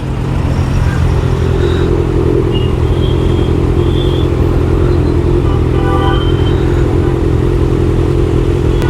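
A Kawasaki ZX6R motorcycle engine rumbles loud and close, a steady throbbing drone with occasional higher whines, continuous and without talk.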